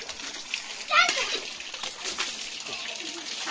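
Water splashes and spatters from an overflowing rooftop water tank, a short loud burst near the one-second mark, then a steady wash of falling water while children and adults talk and shout over it.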